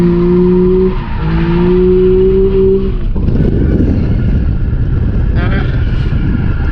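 A Mazda RX8 drifting through a transition, with loud, close tire squeal as sustained tonal screeches over a roaring engine that swells as the car swings across.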